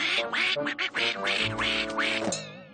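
A cartoon duck quacks in a rapid, nasal, voiced series, loud and up front, with a musical background underneath.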